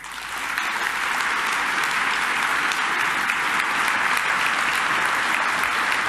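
An audience at a keynote talk gives sustained applause, dense and steady clapping from a large crowd that swells in during the first half-second and holds evenly to the end, with no voices on top.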